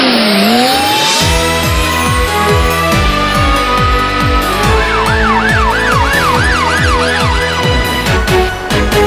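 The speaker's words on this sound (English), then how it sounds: "You can blast your siren loud." A loud cartoon rescue car siren wails steadily, shifting into a rapid rising-and-falling yelp, heard close up over a thumping nursery-rhyme beat.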